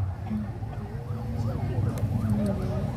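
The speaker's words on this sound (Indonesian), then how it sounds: "Jangan mengganggu ambulan, tolong dikasih jalan jamaah." An ambulance siren wails at a crowded religious gathering, its rising and falling tone moderately loud and sweeping repeatedly through the clip over a dense, steady crowd and engine rumble.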